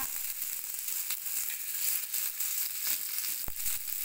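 Halved green chilies frying for mutton keema sizzle steadily in hot oil, a constant close crackle with a few sharper pops, no voices.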